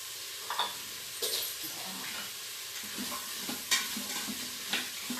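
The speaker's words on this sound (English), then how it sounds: "now I'm gonna put the spices, and then I'm gonna coat them in here" Spices being stirred into vegetables in a soup pot with carrots, red lentils and spinach: a soft, continuous sizzle runs under intermittent spoon scrapes and light clinks against the pot, fairly quiet and close.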